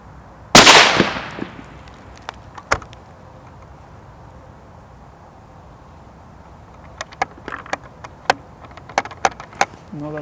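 Loud single report from a Sako S20 rifle firing Hornady 178 grain Precision Hunter ELDX, a sharp crack with a short echoing tail, followed by faint scattered clicks and metallic handling noises.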